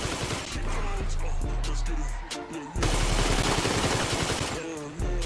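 Rapid bursts of automatic gunfire rattle through a GTA V shootout, loud and dense, with a brief pause midway before the shooting resumes just as heavily.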